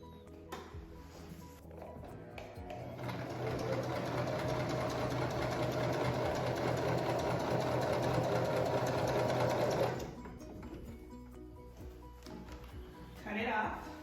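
A sewing machine hums steadily for about seven seconds while stitching the curved edge of a fabric superhero mask, then stops, with quiet handling noises around it.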